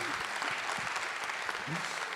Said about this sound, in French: on va l'applaudir d'ailleurs parce qu'il est modeste, mais il mérite bien ses applaudissements